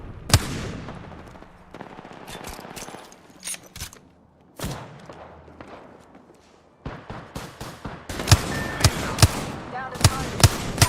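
Apex Legends gunfire: scattered single shots and short bursts early on, then a loud, rapid string of cracks near the end, with game voice lines mixed in.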